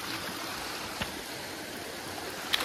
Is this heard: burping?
no